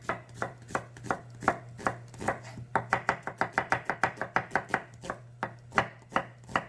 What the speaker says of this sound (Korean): 양파는 채 썰어줍니다.